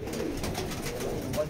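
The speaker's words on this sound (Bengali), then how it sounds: "এদিকে সব জায়গায় পায়রা আছে" Pigeons coo in a loft full of Rampuri birds, a steady layered murmur of soft low coos from several birds close by, continuous throughout with faint background noise.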